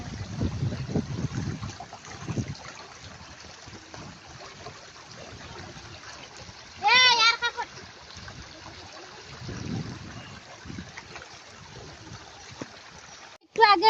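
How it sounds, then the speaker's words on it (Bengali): Floodwater flows around a house as the flood rises, a faint continuous trickling rush with brief splashes, while people talk intermittently. "এই যে বাড়ির সীমানা পৌঁছাইছে পানিগুলো সাগর বন্যা সাগর সব কিছু ডুবে যাচ্ছে"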